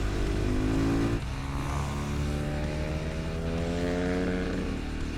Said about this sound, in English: Arguably the two coolest factory Supermoto bikes.